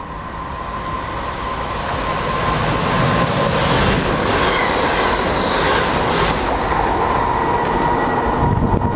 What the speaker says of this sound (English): Our first freight of the afternoon.